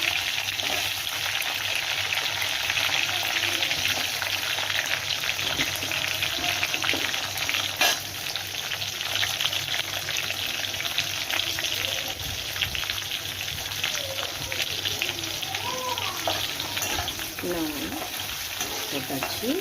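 Small onions frying in hot oil for kara kuzhambu, a loud continuous sizzle with occasional stirring and faint crackles, steady throughout.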